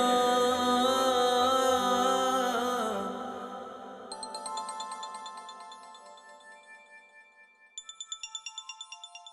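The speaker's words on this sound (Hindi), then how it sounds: "किसका फोन आ रहा है?" A mobile phone ringtone plays for an incoming call, a repeating electronic melody that fades in as a music passage dies away, then grows louder in a rapid pulsing pattern toward the end.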